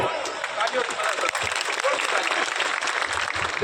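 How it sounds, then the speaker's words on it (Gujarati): Sustained, dense applause from a large crowd welcoming the chief guest at a mass wedding ceremony, steady and loud throughout with a murmur of crowd noise underneath. "અને તાળીઓથી વધાવો"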